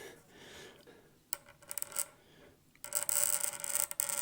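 Scraping clear coat from the binding of a thinline bass guitar body, a scratchy rasp coming in short bursts, then a louder, steadier stretch of close scraping at the end.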